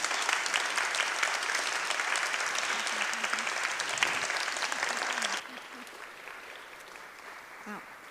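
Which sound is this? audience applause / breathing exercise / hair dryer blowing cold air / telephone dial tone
audience applause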